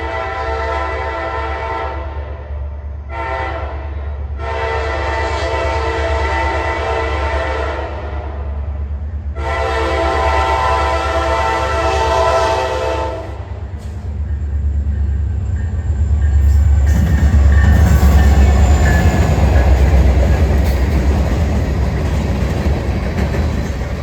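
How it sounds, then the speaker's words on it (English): A Norfolk Southern freight train at Gaffney, South Carolina sounds loud, sustained horn blasts in several long sections, then rumbles and clatters past close by as the horn ends. "This train is moving."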